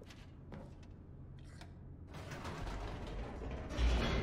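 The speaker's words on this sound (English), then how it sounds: "The elevator raced downward, plummeting towards an unknown fate." An elevator in The Stanley Parable descends with a mechanical creak and ratcheting clanks that swell into a low, rumbling whir, up close, with a heavier thud near the end.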